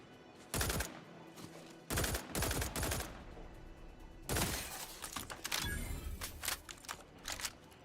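Bursts of rapid gunfire from a gun in the video game Outer Worlds 2 come in several distinct volleys, sharp and loud, separated by short quieter gaps, with no talking.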